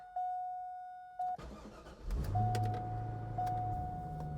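A C5 Corvette engine cranks over and fires up, its idle settling into a loud, steady low rumble after a door-chime tone rings beforehand.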